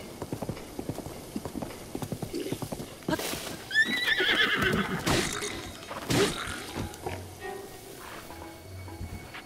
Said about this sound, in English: This is the first horse that I tamed,